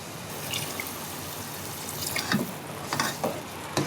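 Water poured into a cooking pot while preparing nombu kanji rice porridge, a continuous liquid pour with splashing that swells in short surges, heard alone at moderate level.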